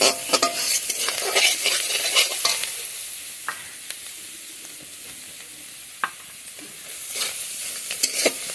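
Vegetables for egg chicken chowmein sizzle in a hot pan with a bright, continuous hiss, punctuated by irregular scrapes and clacks of a spatula stirring them, close and fairly loud with no talking.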